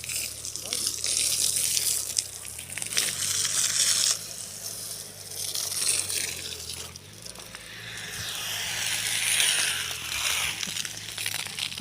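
Water from a hose pipe sprays and splashes onto tulsi plants and leafy foliage at a farmhouse garden, a steady hiss that swells and fades as the stream moves, with rustling leaves nearby.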